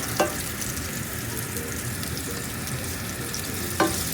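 Garlic fries in oil in a pan with a constant close sizzle, broken at the start and near the end by brief scraping knocks of a spatula.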